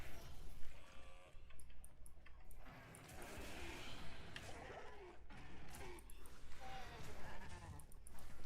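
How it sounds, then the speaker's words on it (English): A goat bleating in Diablo II: Resurrected, several short bleats mixed among ticking and clicking game effects, with a person talking over them. "Come here, you stupid goat."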